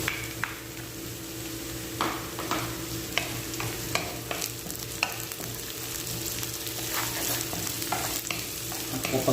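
Onion, garlic and ginger sauté for adobong pusit, with a continuous close sizzle and frequent spatula scrapes and taps in an uneven rhythm, with no speech over it.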